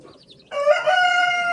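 Chickens in a warm coop on an evening, lit by heat lamps: faint soft clucks and chirps, then a loud, sustained crowing-type call carries on to the end.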